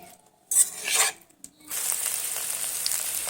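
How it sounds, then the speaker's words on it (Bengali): Mixed vegetables with turmeric fry in a pan, starting with a few scraping stirs and clinks, then settling into a steady close sizzle that runs to the end. "সবজিগুলো খুবই সুন্দরভাবে আমার এখানে ভাজা হয়ে গেছে"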